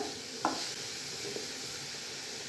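Finely chopped onions dropped into hot oil with cumin, giving a soft continuous sizzle close by, with a brief clatter as they land and a light stir later.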